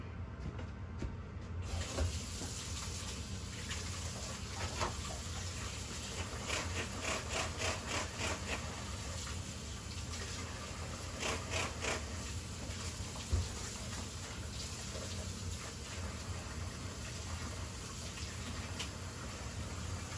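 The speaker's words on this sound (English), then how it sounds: "Soap and water always goes on the meat tenderizer." Water runs steadily from a tap as a meat tenderizer is washed with soap in a home kitchen, a continuous hiss with faint scrubbing and clinks over the top and a single sharp knock near the end.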